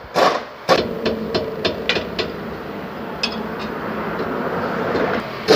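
A quick series of sharp metallic hammer blows on a car brake caliper rings out close by, then a few scattered knocks over a steady mechanical hum.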